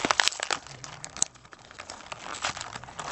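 Cardboard toy box packaging being torn open by hand, with close crinkling and ripping that runs continuously and fairly loud through a short stretch.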